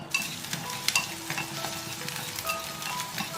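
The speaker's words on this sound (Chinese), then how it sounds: "然后把料头放进来爆香，" Aromatics stir-fry in chicken-frying oil in a clay pot with a continuous crackling sizzle, broken by a few light clinks of a utensil against the pot. No voices are heard.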